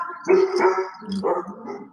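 Several dogs bark and yelp in overlapping bursts, fairly close and loud, with a pause in the middle before another round of barking.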